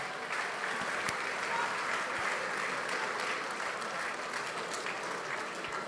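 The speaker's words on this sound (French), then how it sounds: "On peut les applaudir s'il vous plaît, mesdames, messieurs." Supporters applaud a rugby club's team at its presentation to fans, a dense, steady crowd clapping that holds at even loudness throughout, with faint crowd noise beneath.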